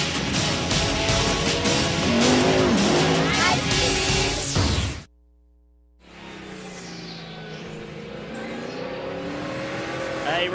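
Loud race car engines roaring on track at Homestead-Miami Speedway during the Grand Prix of Miami sports car race, an in-car sound that cuts out briefly before a quieter engine drone resumes.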